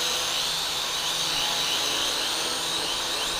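A Feilun RC plane's electric motor strains near full throttle, giving off a steady, high, buzzing whine that holds constant throughout.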